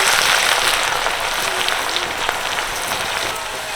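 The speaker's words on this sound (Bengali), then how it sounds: "আর এই ঝুড়ো আলুগুলো ভাজতে কিন্তু দারুণ লাগছে অল্প সময়ের মধ্যে ভাজা হয়ে যাচ্ছে" Grated potatoes deep-frying in hot oil, a close, bright crackling sizzle with fine popping, loudest at first and easing slightly as it continues.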